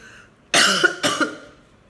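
Two harsh, forceful coughs in quick succession, close and loud, with a short pause between them.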